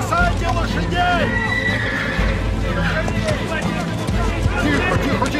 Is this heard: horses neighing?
yes